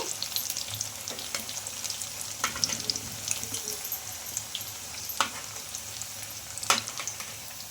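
Semolina snacks frying in a pan give a continuous crackling sizzle, broken by several sharp clicks of a spoon turning the pieces.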